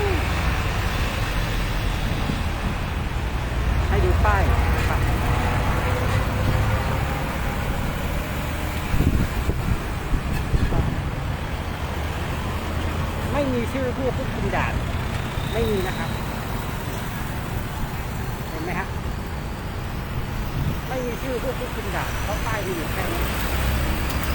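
Steady road traffic noise from cars, trucks and buses crawling in a long jam near a pedestrian overpass in Bang Phli, with a continuous low rumble, passing engine swells and talk over it throughout.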